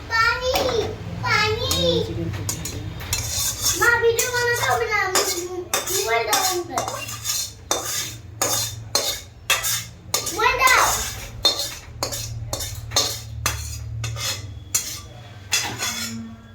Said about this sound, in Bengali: এবার আমি এইগুলো ঢেলে নেব চিকেনটা